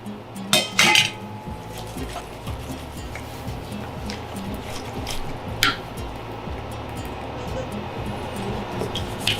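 Clinking of a metal pot and utensils as fried eggplant is tipped into a simmering keema curry, with a steady low bubbling hiss underneath and a few sharper clanks near the start.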